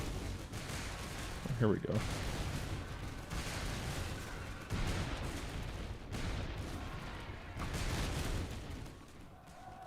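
Musket and artillery fire rumble through the battle in the video game Gettysburg: The Tide Turns, heavy and continuous with repeated booming volleys, while someone talks over it.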